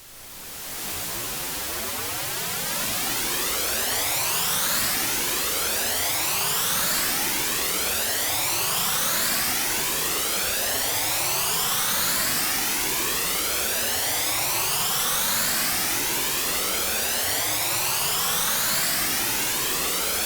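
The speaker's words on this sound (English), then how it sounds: "So now we should have a constantly rising, awesome jet sound" Shepard tone riser built as an endless rising jet sound: a loud, dense, noisy roar with layered sweeps that climb continuously without ever seeming to arrive, swelling in at the start and holding steady throughout.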